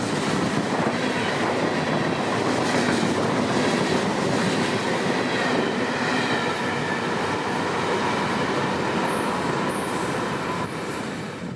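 An FEC rock unit freight, train 292, rolls steadily past in rain, its loaded cars making a loud, continuous rumble with clattering wheels and faint high squeals, and no voices.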